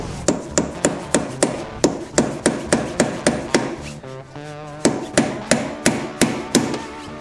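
Hammer blows strike a motorcycle steering head bearing nut clockwise, a steady series of sharp metallic knocks about twice a second, with a brief pause midway before the regular hammering resumes, close and loud.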